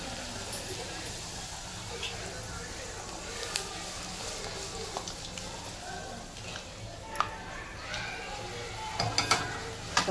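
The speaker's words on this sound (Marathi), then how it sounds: "आता अशा पटापट पुऱ्या तळून घेणार." Puris deep-frying in hot oil, a soft continuous bubbling sizzle with a few light clicks and clinks of utensils, moderately close and fairly quiet.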